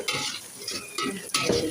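Beef stirred in a pan just after cumin goes in, a brief close burst of sizzling with a few quick spatula scrapes against the metal.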